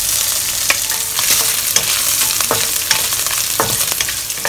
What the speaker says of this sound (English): Add in also 50 grams of shark shrimps